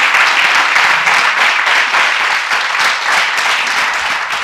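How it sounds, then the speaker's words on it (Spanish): Sustained applause from a theatre audience in an Argentine film, a dense, steady roar of many clapping hands that fills the whole stretch without pause. "el aplauso del público fue tal que los actores solo atinaron a agradecer"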